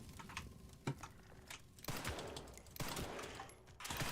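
Gunfire from the Resident Evil 9 video game, a scattered run of sharp shots over a busy, cluttered game soundscape, fairly quiet overall and with no talking.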